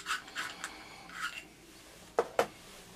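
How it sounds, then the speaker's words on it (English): Herb grinder parts being screwed together: several short dry rasping twists close up, followed by two sharper clicks as the pieces seat, quiet and without talk. "But this bit screws together,"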